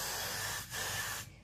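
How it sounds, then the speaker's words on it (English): Hair spray hisses onto the edges of a curly short bob wig in two quick close bursts, a brief pause between them. "I'm spraying it"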